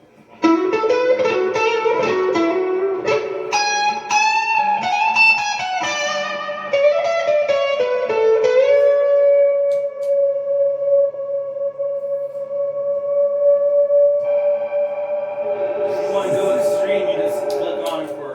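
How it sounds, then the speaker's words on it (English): Electric guitar notes ring out through a washy reverb pedal (Mr. Black Bloodmoon), chords blooming and trailing into long sustained tails, with a brighter shimmering swell near the end. "give it a more, let's just say, traditional sounding reverb"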